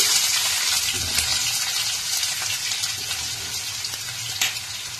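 Mustard seeds and onion dropped into hot oil, a steady bright sizzle with scattered small pops and crackles, loud and close throughout, no talk.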